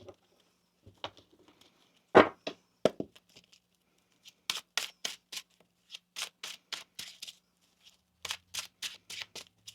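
A deck of tarot cards being shuffled by hand in irregular bursts, a few sharp slaps early on and then quick rhythmic riffles and taps in clusters, close and moderately quiet.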